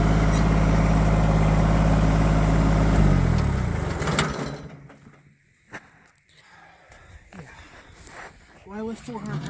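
Tractor engine running loud and steady while lifting a roughly 400-pound load on a wind tower job site, then dropping away to quieter clanks and handling noise.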